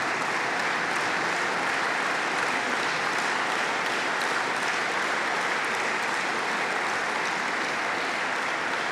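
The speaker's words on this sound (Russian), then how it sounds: "Мы им аплодируем." An assembly audience at a state council address in Tatarstan claps in a dense, even wash of applause that stays loud and unbroken throughout.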